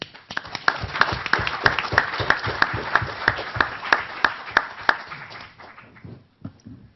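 A live audience at a Columbia University panel event applauds to welcome Professor Sachs. The clapping is steady and dense, with sharp individual claps standing out, before it thins and fades out near the end.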